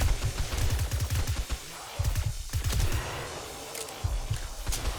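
NPC gunfire at enemies in 7 Days to Die with the Rebirth mod during a day 70 horde, loud rapid automatic bursts in several volleys separated by brief pauses, with no talk.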